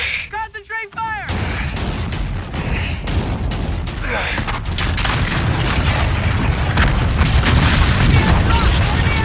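Naval guns boom and explosions burst repeatedly in a Call of Duty battle scene, heavy and dense after a short alarm tone, with shouted commands over the continuous gunfire.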